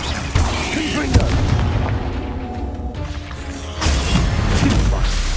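Repeated blasts from the Confringo fire spell in Hogwarts Legacy, a series of loud booms and crackling impacts amid busy combat noise, with a fresh burst near the end.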